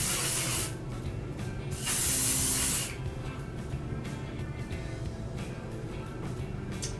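Two bursts of hairspray hiss from an aerosol can onto curly hair, a short spray followed by a longer loud one, then quiet rustling of hair being handled.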